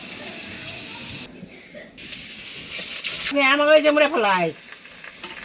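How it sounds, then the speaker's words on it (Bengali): Pangas fish marinated with turmeric, salt and chili fries in a pan on a gas stove in a village kitchen, a steady close sizzle that dips briefly and then continues beneath a voice talking. "মাছটা হলুদ আর লবণ মরিচ মাখিয়ে ভেজে নিচ্ছে"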